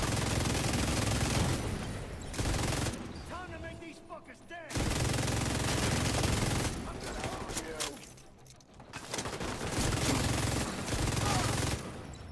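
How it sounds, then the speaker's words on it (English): Gunfire in an online PvE shooter game, with dense bursts of rapid automatic fire in two long stretches separated by quieter gaps, loud and close, with someone talking in between. "They're shooting, they must be real."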